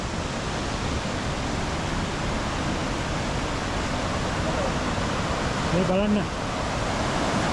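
Na Ella waterfall crashing down, seen from a rock at the summit after a hike from Kalugala: a steady, dense roar of falling water fills the whole clip, with a brief spoken phrase near the end.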